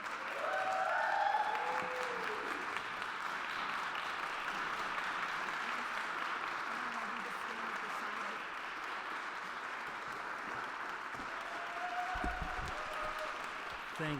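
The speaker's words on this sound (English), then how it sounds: "if we can all just welcome him with applause" An audience at a choral arts awards ceremony applauds steadily, a dense, even wash of many hands clapping that holds for the whole stretch at moderate loudness.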